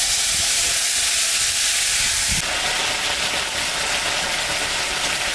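Ginger, onion and chili paste added to hot oil tempered with dried chilies and cumin, cooking a lata fish curry; a steady loud hiss that swells into a harsher, brighter sizzle partway through.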